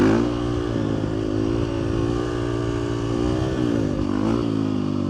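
A Husqvarna FE350 dirt bike engine revs steadily up and down outdoors, loud and close, with a continuous throaty drone and brief pitch swells, no talk.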